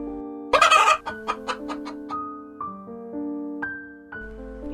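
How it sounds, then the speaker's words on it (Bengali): A chicken clucks repeatedly, starting with a loud squawking burst, then a series of short, close clucks and drawn-out calls. "কি মুরগি এনেছো তুমি?"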